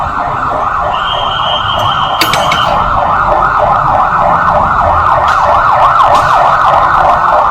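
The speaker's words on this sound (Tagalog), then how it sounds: "Ambulansya pala, ambulansya." Loud wailing ambulance siren sweeping up and down continuously, close by, with a brief sharp clatter partway through and no talking.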